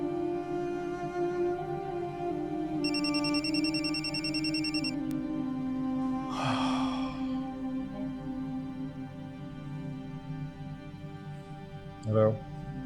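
A phone call's ringing tone plays as a short electronic ringback burst amid faint room sound, followed later by brief voices.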